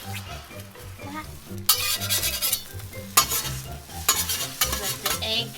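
Eggs fry in a pan, the steady sizzle of hot fat broken by repeated loud scraping and stirring strokes near the microphone, with no talking.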